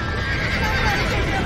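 A loud horse whinny in Red Dead Redemption rises over a steady roar of commotion, with faint hoofbeats and distant voices in the mix.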